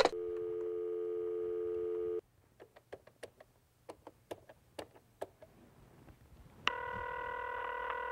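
A telephone busy signal: a steady electronic tone, then a pause filled with soft taps of number keys being dialed, then the tone returns, close and clear.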